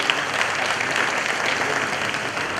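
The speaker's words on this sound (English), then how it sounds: "Let's give a huge applause to our dear ones." An audience at a kindergarten annual day celebration claps loudly and continuously, a full wash of applause sustained without a break.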